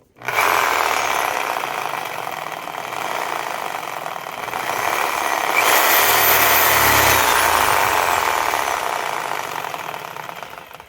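An angle grinder running freely in a workshop, producing a loud, continuous high whine with a rough motor roar that holds steady and swells slightly midway before easing off toward the end.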